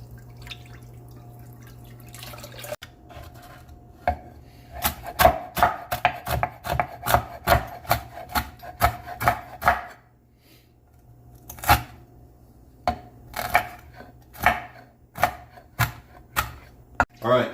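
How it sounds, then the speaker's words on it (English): A whisk works roux and milk into a cheese sauce in a pot, clicking rhythmically against the metal in quick bursts, pausing briefly midway before the brisk clatter resumes. "we're just going to keep whisking"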